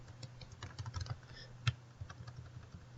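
Quiet, uneven tapping of keys on a computer keyboard, typing a spreadsheet function search, a short burst heard up close with no voices.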